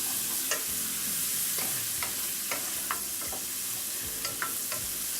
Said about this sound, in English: So I'm just going to saute that for a little bit.